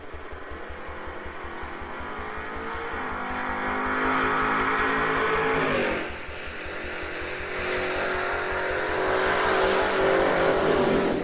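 Drag race cars, one of them a Camaro, launch and roar down a raceway strip, a loud pulsing engine drone that swells, dips briefly, then surges again as they accelerate away.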